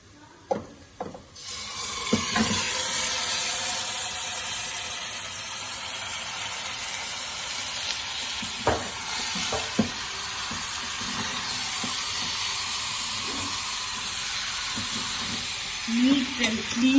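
Washed chicken pieces are dropped into hot masala for a chicken curry, setting off a loud, continuous sizzle and hiss, with occasional scraping knocks of stirring and a voice talking over it.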